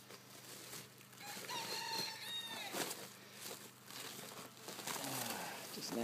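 Chickens being placed into a Biopod, with soft clucking and squawks amid rustling and handling noises, a person talking nearby.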